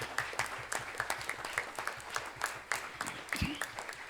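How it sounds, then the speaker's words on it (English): An audience at a national quiz final breaks into applause, a dense patter of claps holding steady at moderate volume, with a brief low thump near the end. "Can we have a thunderous applause for them?"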